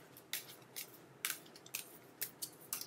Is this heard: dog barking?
no